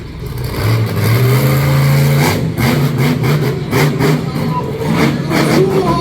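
A monster truck engine roars and revs on a dirt show track as the truck crawls over a bus. The loud, throaty, rising revs run under excited commentary for the whole stretch.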